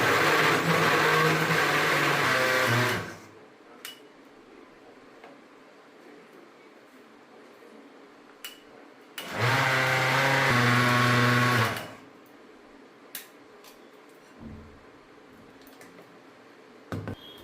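A mixer grinder with a faulty jar whirs loudly for about three seconds, stops, then runs again for another short burst, with faint clicks and small knocks in the quiet gaps.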